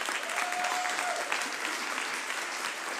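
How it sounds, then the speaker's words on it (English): A room full of people applauds the mayor at a community cabinet meeting, steady dense clapping held at an even level for the full three seconds, with a brief whistle-like tone early on. "Can we give the mayor a round of applause?"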